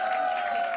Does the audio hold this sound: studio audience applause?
yes